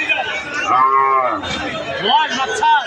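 A Jersey cow with a one-month-old calf at a cattle market moos loudly and close by, giving two drawn-out calls over crowd chatter.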